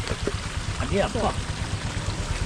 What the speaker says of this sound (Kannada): ನಾನು ಹೋಗಿ ಅಲ್ಲಿ ನೀರು ಹಿಡ್ಕೊತೇನೆ ನನ್ನ ಹತ್ರನೂ ಕೂಡ ಒಂದು ಇದಿದೆ ಬಾಟಲ್ ಇದೆ